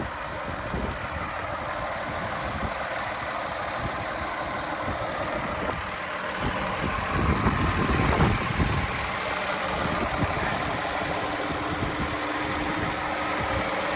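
A 2015 Chrysler 200C with a 3.6 V6 idles steadily, a close, even mechanical hum with light ticking that holds for the whole stretch with no one talking.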